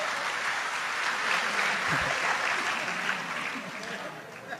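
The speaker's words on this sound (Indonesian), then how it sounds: "Tepuk tangan untuk Gus Kausar nggak apa-apa." An audience at an Indonesian Islamic religious lecture gathering on stage applauds, a dense and steady clapping that fades slightly at the end, with a voice over it.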